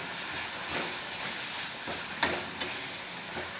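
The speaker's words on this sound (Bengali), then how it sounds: "এবার এটা দিয়ে একটু হালকা করে একটু ভাজা ভাজা করে নেব।" Bean bharta with chopped coriander fries lightly in a pan, giving a soft, steady hiss with a couple of sharp pops partway through.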